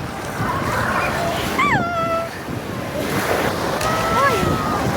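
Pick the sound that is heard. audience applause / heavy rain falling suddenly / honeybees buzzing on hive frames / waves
waves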